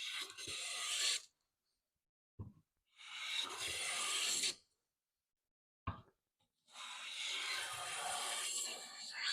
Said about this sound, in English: to get used to planing again